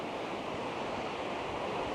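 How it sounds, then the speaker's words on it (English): River water rushing over large rocks in a Welsh countryside valley, a continuous dense broadband roar close to the microphone with slight wind buffeting. "I love these rocks down here with the river going over them"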